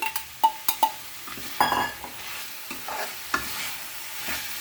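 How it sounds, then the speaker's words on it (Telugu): Jackfruit and drumstick pieces go into frying masala in a pan. A few sharp clinks and a clatter of pieces dropping in are followed by soft stirring scrapes over a low sizzle. "ఇప్పుడు ఈ ముక్కలు వేసేస్తున్నాను"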